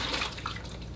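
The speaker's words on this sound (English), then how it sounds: "So for this, I'll pour a little water in there." Water pours into a paint bucket used for watercolor painting, a close continuous splashing stream with a brief brighter gurgle midway and no talking.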